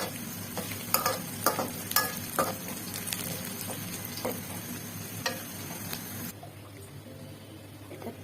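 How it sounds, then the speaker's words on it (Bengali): Onion frying in hot oil with bay leaf and garam masala for a tripe bhuna, a close, steady sizzle broken by scraping stirs and light clinks, cutting out near the end. "পেঁয়াজের সাথে একটু ভেজে নিব।"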